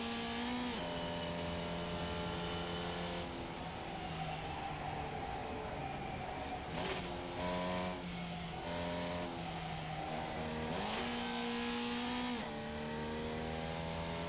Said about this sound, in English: Just the revs sound so odd.